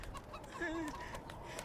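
A chicken clucks in a short run of soft, fairly close calls, with a rising, wavering tone in the middle, against quiet background noise.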